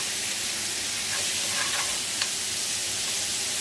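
Chuck steak sizzles in a hot skillet, a steady, close frying hiss with a few faint pops and crackles and no one talking.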